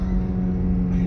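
A Rover 75 with a 1.8 turbo engine running at raised revs, a steady close engine drone with a strong low hum throughout the short moment, no clear rise or fall.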